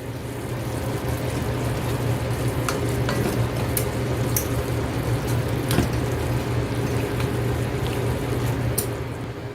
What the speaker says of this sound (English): And now I'm going to stir.